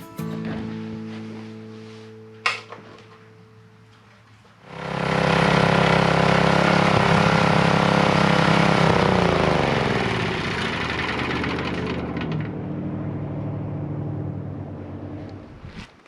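A rototiller engine starts with a sharp knock, then roars up loud and close in a steady mechanical drone before easing back to a lower, rougher running note, with no talking.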